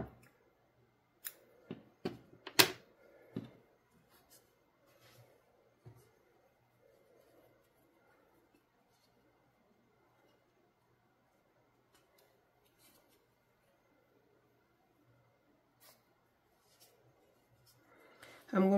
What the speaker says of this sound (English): because I'm going to switch colors, I'm going to cut my yarn here.